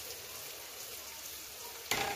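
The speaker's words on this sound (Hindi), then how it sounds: "अब मैं इसमें डाल दूंगी कच्चे आम।" Raw mango pieces dropped into spices roasting in a pan: a steady soft hiss of frying, then a sudden louder burst of sizzling as the mango hits the hot spices near the end.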